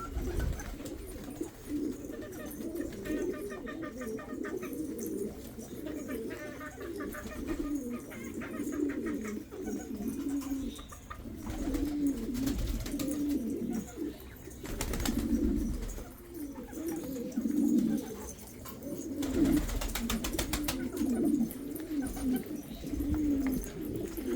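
Domestic pigeons cooing steadily and close by, layered murmuring coos rolling on throughout with occasional brief rustles or knocks, no talking.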